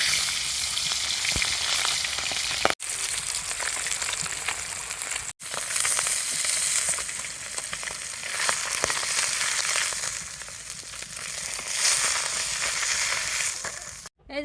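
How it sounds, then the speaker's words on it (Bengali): Pabda fish frying in hot oil, a steady loud broadband sizzle with crackling spatter that runs nearly unbroken, cut only by two brief gaps where the sound drops away. "তেল গরম হয়ে গেছে, আবার মাছগুলো তেলে ভেজে নেব।"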